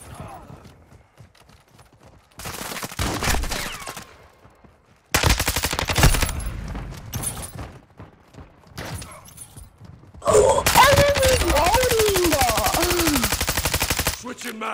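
Bursts of rapid automatic gunfire from the video game Call of Duty: Modern Warfare II, loud and close, coming in separated volleys with a long sustained burst near the end, with brief spoken exclamations in the gaps.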